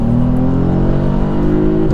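A modified Volkswagen Up GTI engine revs hard up to the rev limiter, giving a loud, close, steadily rising engine note that holds near the top with no pauses.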